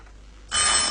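A telephone begins ringing halfway through, a bright, loud electronic ring that sounds alone after a quiet start.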